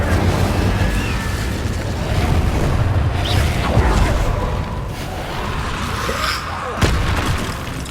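Fire spells cast with Incendio in the Hogwarts Legacy video game burst out as rough, whooshing rumbles and booming blasts, loud and close, with a sharp crack near the end.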